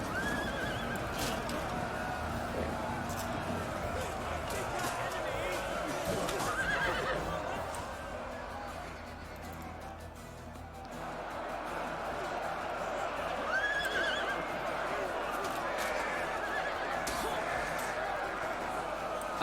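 Horses neigh amid a dense cavalry clash in the medieval Total War battle game, a couple of clear whinnies rising over a constant loud roar of hooves, clanking steel and battle noise, with a brief lull midway.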